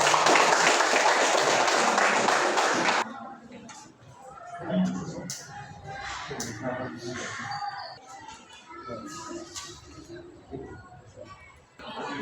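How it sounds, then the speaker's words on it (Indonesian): Audience applause breaks out in a classroom or group session, a dense, loud burst of clapping for about three seconds before it stops abruptly, followed by children chattering and talking in the room. "kita beri aplaus"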